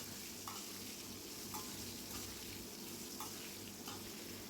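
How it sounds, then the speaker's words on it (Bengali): Pre-cut, washed and drained potatoes stir-fry in hot oil in a wok, giving a soft, steady sizzle with faint, intermittent knocks of stirring. "এবার নেড়েচেড়ে আলুগুলো আমি ভাজি করে নিব"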